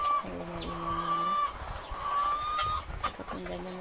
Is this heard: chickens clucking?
yes